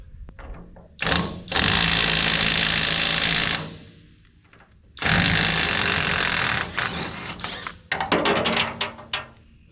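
A wrench works a stuck part loose on a bush hog mower during a rebuild, giving two long bursts of loud, harsh mechanical grinding and rattling, then a series of shorter clanking knocks.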